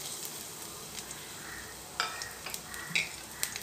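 Crushed garlic cloves with their skins on sizzle faintly in hot oil in a pan, with a soft continuous frying hiss and a few light stirring clinks.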